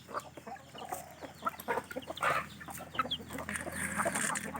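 Fighting-breed rooster and hens clucking at morning feeding, close by, with busy overlapping clucks and calls throughout.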